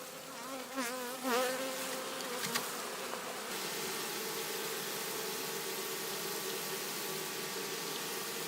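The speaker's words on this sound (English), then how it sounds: "Stick their butt in the air and fan their pheromones." Honeybees from a swarm in an apiary produce a steady, dense buzzing hum, with a few louder individual bees passing close early on before the drone settles into an even, continuous background.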